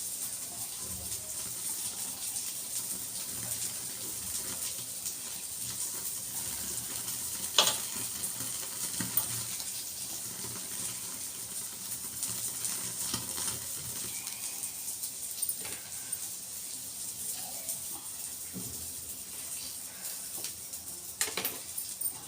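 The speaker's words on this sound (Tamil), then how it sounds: "பட்டர் போட்டு அடுப்பில் அப்படியே காமிக்கணும்" Butter sizzling on tandoori chicken held over a stove, a faint steady crackling hiss with occasional small pops.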